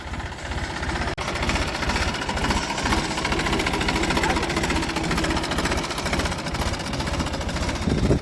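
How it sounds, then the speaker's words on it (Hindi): A motorcycle engine chugs steadily with a rapid, rhythmic putter, running continuously at moderate volume close by. "मोटरसाइकिल लग रही है"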